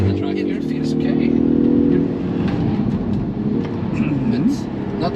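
A Polestar 1 car driving hard on a track, a steady engine and road roar with rising tones, under ongoing talk from people inside.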